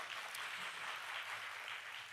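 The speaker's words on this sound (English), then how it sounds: "please give him another round of applause" A heritage conference audience keeps up a steady round of applause after a keynote, a soft, continuous wash of many hands clapping with no talk over it.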